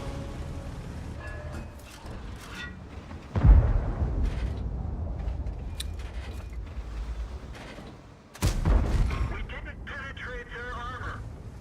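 Two loud tank cannon shots boom in a World of Tanks tier 10 heavy tank battle, several seconds apart, each followed by a rumbling decay over ongoing game noise, with someone talking throughout.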